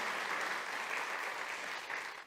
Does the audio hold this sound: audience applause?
yes